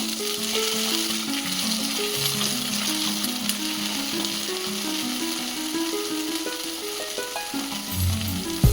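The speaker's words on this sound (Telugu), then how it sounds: "ఇప్పుడు మళ్ళీ ఒక 2 మినిట్స్ తర్వాత మళ్ళీ ఒకసారి కలుపుకుంటున్నాను" Tomato pacchadi being stirred in a hot pan, with a steady sizzle and frying crackle plus scraping stir strokes throughout, close and fairly loud, with no voices.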